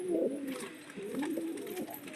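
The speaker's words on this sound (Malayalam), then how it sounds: "ചെന്നൈ ലൈനേജാണ്, ചെന്നൈ പ്രാവുകളാണ്." Chennai lineage pigeons coo in a loft, a pair of low rolling calls repeating twice at moderate volume over soft background rustle.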